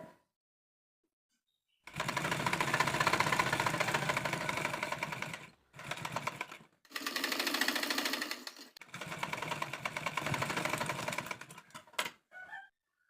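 A sewing machine stitches the neck of a frock in long close bursts of rapid rhythmic clatter, stopping and starting several times with short silent gaps between runs.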